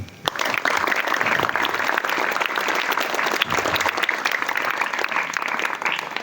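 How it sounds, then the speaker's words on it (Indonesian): An audience of students and teachers at an Islamic boarding school claps for a guest speaker, a sustained, loud, close roll of hands that runs evenly for several seconds. "Tepuk tangan."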